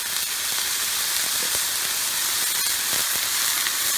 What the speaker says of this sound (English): I put a little bit of water around the edges.